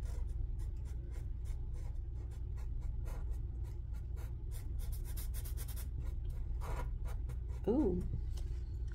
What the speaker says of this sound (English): So let's color in one of these flowers here.